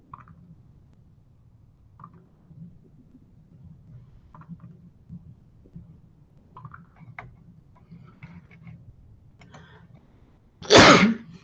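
After a long stretch of quiet room noise with faint knocks, one short, sharp sneeze bursts out loudly near the end.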